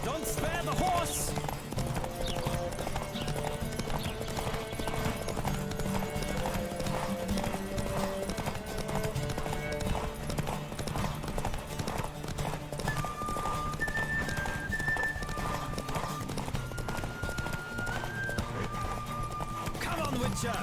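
Horses gallop in a race in The Witcher video game, with steady, rapid clip-clop hoofbeats and an occasional whinny running continuously beneath other game sounds.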